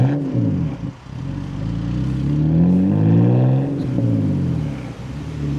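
Inline-six car exhaust revving up and settling in steady low rumbling waves, captured from a boot-mounted mic during a dual carriageway run, loud and close with no talk.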